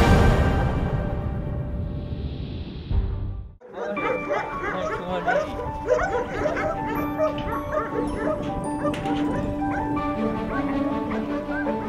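Service dogs being trained for border duty in Khmelnytskyi bark and yip repeatedly in quick bursts, close and loud, after a few seconds of other sound that cuts off abruptly.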